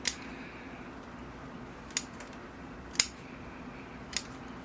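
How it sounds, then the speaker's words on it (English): Shears snipping long roots off a trident maple bonsai during repotting, four sharp separate cuts spaced about a second apart over a quiet background. "let me cut off these long roots."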